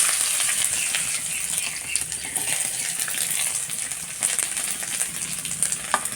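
Cumin seeds and chopped onion sizzle steadily in hot oil in a pan, a continuous crackling hiss with scattered small pops, no voice.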